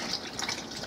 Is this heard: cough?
no